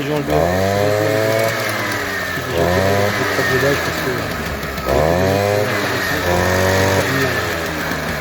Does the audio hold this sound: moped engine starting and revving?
yes